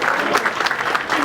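Audience applause at a formal ceremony in Côte d'Ivoire welcoming an Austrian embassy delegation, a dense, steady wash of many hands clapping close and loud throughout.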